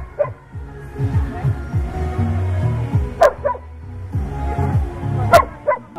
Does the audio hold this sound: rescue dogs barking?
yes